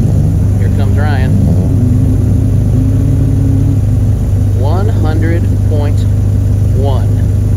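A rallycross car drives past on a dirt-and-tarmac track, its engine a steady mid-pitched drone with rising revs, heard alongside talk and nearby voices.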